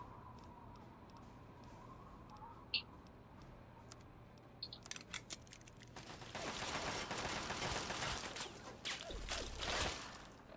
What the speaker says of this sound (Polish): do mnie strzelają